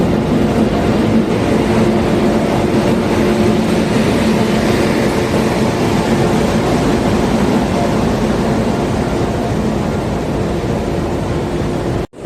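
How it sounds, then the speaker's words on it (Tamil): Mysuru–Cuddalore Port Express pulling into Erode Junction with a WAP-7 electric locomotive: a steady, loud broadband rumble of the rolling train holds for about twelve seconds and then cuts off abruptly. "37544 ஷார்ப்பாக 12:50க்கு நம்மளுடைய மைசூரு கடலூர் ஃபோர்ட் எக்ஸ்பிரஸ் வந்து உள்ளே வருதுங்க"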